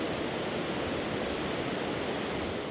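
A steady, dense roar of falling water and splashing spray at Athabasca Falls, Jasper, Canada, loud and unbroken, with no voices.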